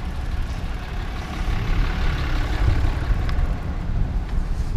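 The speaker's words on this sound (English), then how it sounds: "I think we can pass these cars a little bit and get up to the bike lane" Cars and heavier vehicles move in city traffic beside an Ariel Rider M-Class e-bike heading for the bike lane, giving a close, continuous low engine rumble that swells briefly midway.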